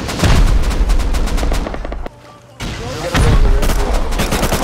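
Rapid, loud bursts of rocket launcher fire and gunfire fill a raid in the video game Rust, dense and continuous with a short lull midway before the barrage resumes.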